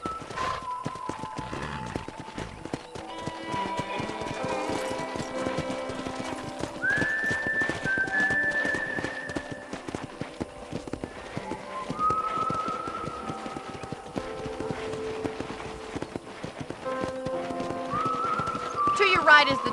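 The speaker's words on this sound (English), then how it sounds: "let's see if you can still ride a horse." A horse being ridden in the Western video game Red Dead Redemption, with steady hoofbeats running throughout and occasional neighs; voices talk over the riding for much of the time, and a soft background bed sits underneath.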